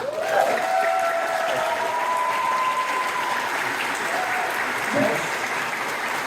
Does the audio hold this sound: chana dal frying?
no